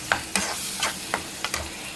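Drumstick or fenugreek greens go into a hot pan and sizzle steadily up close while a spatula stirs them in about five quick, evenly spaced scraping strokes.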